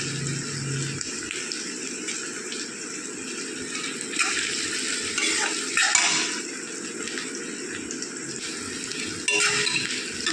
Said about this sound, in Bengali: এটাকে ভালো করে নাড়িয়ে চাড়িয়ে ভেজে নেব। তেলটা একদম প্রচণ্ড গরম হয়ে গেছে।